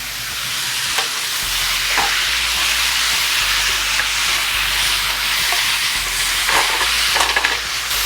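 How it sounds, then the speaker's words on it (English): Greens sizzle and steam loudly in a hot pan as tamari is added, a steady frying hiss with a few soft stirring knocks throughout. "the tamari could go in now, which would be great to get a little bit of steam coming up from that too"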